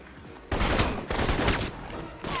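Gunfire in Alpha Protocol: loud, close automatic bursts start abruptly and run in several rapid volleys with short gaps between them, and no one speaks.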